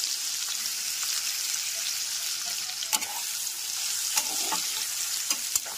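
Sliced onions drop into hot tempered oil for a Bengali soya chunk curry and fry with a steady, bright sizzle. A few sharp stirring clicks and taps from a spoon in the pan cut through the crackle.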